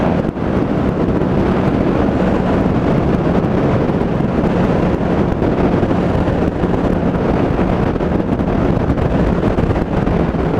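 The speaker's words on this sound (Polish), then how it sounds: "Ale wieje." Strong wind buffets the microphone in a steady, loud roar with no letup, heard outdoors on a trip between Kłyżów Rybakówka and Zarzecze; no voices.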